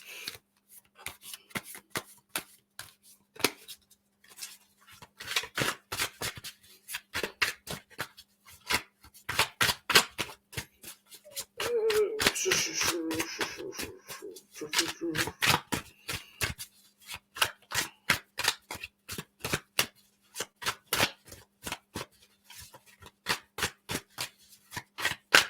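Tarot cards are shuffled by hand up close in rapid, irregular bursts of crisp riffling and flicking, with a longer continuous riffle midway and no talking.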